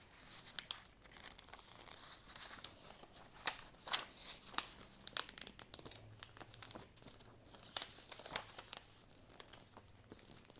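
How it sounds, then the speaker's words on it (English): Sheets of paper are folded into pleats, giving continuous close crinkling and rustling with sharp crackles and creases over about ten seconds, with no voice. "if you fold the paper like this"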